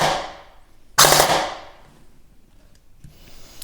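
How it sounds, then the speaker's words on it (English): Airsoft AK fitted with a Jefftron Leviathan v3 gearbox controller, set to a three-round burst: one sharp, loud mechanical burst of rapid shots in quick succession, followed by a faint click or two. "now if I put it in auto, I have configured a burst of 3"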